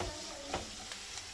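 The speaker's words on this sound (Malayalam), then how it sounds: "ഇതിലേക്ക് ഓയിൽ ഒഴിച്ചു കൊടുക്കുന്നുണ്ട്. എന്നിട്ട് സവാള ചെറുതായി അരിഞ്ഞതും കൂടി ചേർത്ത് വാട്ടിയെടുക്കുന്നുണ്ട്." Chopped onions sauté in oil in a pan with a little salt, giving a steady soft sizzle with a few faint stirring scrapes, close and quiet, with no talking.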